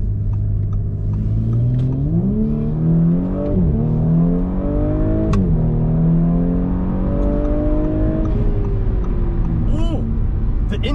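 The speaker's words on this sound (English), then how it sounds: "Ooh, the intake sounds louder." Tuned Audi B9 S4 with a Unitronic Stage 1+ tune, heard from inside as the engine and intake rise through repeated revving pulls, loud and close, with gear-change dips between the climbs.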